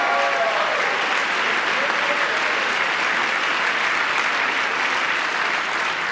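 A large audience applauds loudly during a political speech, dense sustained clapping filling the whole stretch without letting up.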